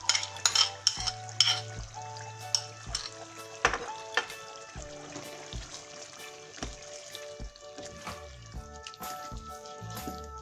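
A spoon stirs yogurt into chicken karahi in a pan, giving soft scraping and clinking against the metal over a low sizzle, with a few sharper taps near the start and no talking.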